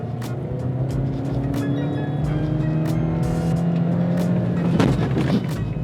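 Subaru XV boxer engine revving and accelerating hard in sport mode on a dirt road, a steady loud engine drone rising in pitch, with road and tyre noise and a brief burst near the end.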